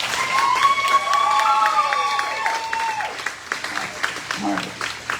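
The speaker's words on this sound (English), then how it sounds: "give a warm welcome, and a round of applause for the top production guy, Mr. Ricky V." Steady applause from an audience with some cheering and whistles, loud and continuous before thinning into scattered claps.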